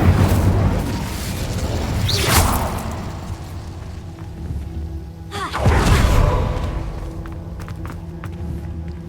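Incendio fire spell cast in Hogwarts Legacy: two loud whooshing bursts several seconds apart, each swelling into a rumbling boom and then fading into a low, crackling tail.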